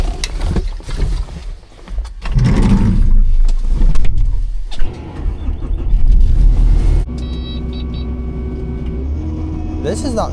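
A Kubota 75.2 tracked machine with a 75-horsepower engine and factory tracks runs during snow removal after a big storm, a steady low engine drone close by with voices talking over it.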